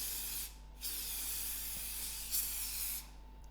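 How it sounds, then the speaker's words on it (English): Three short bursts of cooking oil aerosol spray hiss onto skewers in an air fryer, close and loud, separated by brief pauses over a low steady hum. "I'm just going to add in a little spray and cook"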